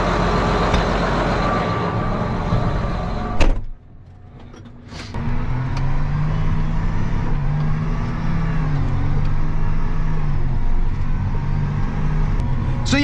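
A John Deere 8270R tractor on a road, a loud steady engine drone that drops briefly, then returns with a low rising and falling tone, close and continuous with no talk.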